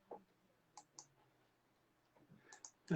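A computer mouse clicks a few times, sharp and faint, in short pairs with quiet gaps between them, while someone sets up a new computer.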